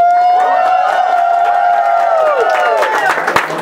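An audience at a Halloween 2009 costume contest cheers for contestant one with sustained, shrill whooping and screaming voices, and a burst of clapping joins in near the end. The crowd sounds loud and close.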